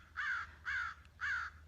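Three harsh caws from a single crow, evenly spaced and moderately distant, over a low steady background hum with no talking.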